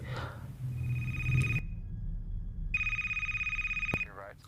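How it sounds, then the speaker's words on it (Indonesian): A film telephone ringing in bursts of trilling electronic bell tone, two rings separated by a short silence, heard over a low rumbling score in a prank-call thriller. "Kemudian, telepon pun berdering kembali."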